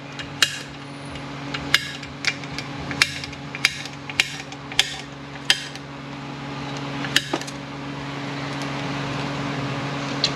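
Sharp metal hammer blows stake a bearing in place during a BAXA transmission rebuild, about a dozen crisp ringing strikes spaced irregularly over a low steady shop hum.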